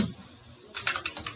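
Keys on a computer keyboard are tapped in a short quick burst, close and fairly quiet, after a brief pause at the start.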